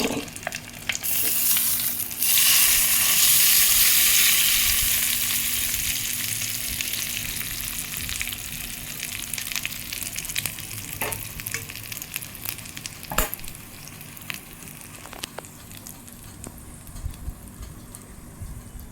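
Loud, steady sizzle of a hot tempering poured into coriander, mint and tomato chutney, bursting strongly at first then settling into a continuous crackle with a few sharp pops and scrapes, no talking.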